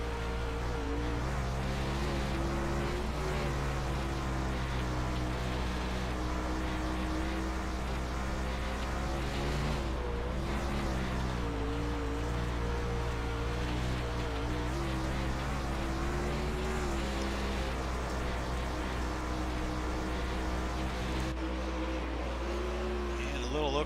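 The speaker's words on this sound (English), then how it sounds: "Let's take a moment and ride on board with him and listen to that motor sing." A Sportsman 360 dirt race car's engine at Lernerville, heard onboard, drones loudly and continuously, its pitch rising and falling as the driver works the throttle through the laps.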